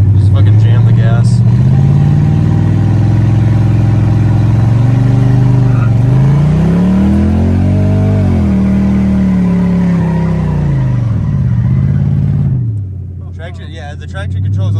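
A car accelerating hard on a dirt road, its engine loud and close, pitch climbing through the revs, dipping and rising again before the throttle cuts near the end.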